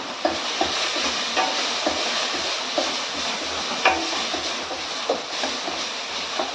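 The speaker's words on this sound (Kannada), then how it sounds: "ಚೆನ್ನಾಗಿ ಫ್ರೈ ಆಗ್ತಾ ಇದೆ ನೋಡಿ." Okra (ladies finger) fries in a pan for a coconut palya, a continuous bright hiss of hot oil broken by light, irregular clicks from stirring.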